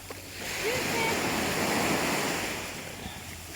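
A wave swells and washes in, rising to a broad roar then fading, with wind rumbling across the microphone.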